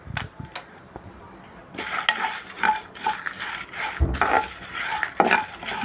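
Coriander seeds and chana dal dry-roasting in a pan, with a run of light scraping and clinking from a utensil against the metal, close and fairly loud, in irregular bursts after a quieter start.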